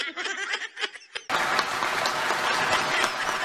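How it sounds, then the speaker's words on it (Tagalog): Sustained applause from a crowd, loud and steady, breaking in abruptly after a short stretch of talk and continuing without pause, with scattered voices mixed underneath. "Grabing palakpak yun, ha?"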